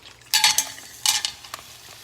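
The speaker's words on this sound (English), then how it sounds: "I can hear a little sizzle, which tells me the pan is ready" Seafood sizzles in a hot pan in short crackling bursts, with a few clinks and stirring sounds close by.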